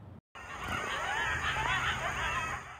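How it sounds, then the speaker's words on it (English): Coyotes in a pack howl and yip outside a family home at night, a dense, wavering chorus of overlapping cries that stays steady and moderately loud after a brief cut at the start. "Packs of coyotes howling into the night sky."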